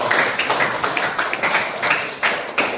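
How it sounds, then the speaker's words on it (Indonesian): A classroom of students claps for a classmate in a chemistry lesson, a short burst of brisk, fairly loud mixed clapping with some louder individual hand strikes standing out. "tepuk tangan buat Tiara"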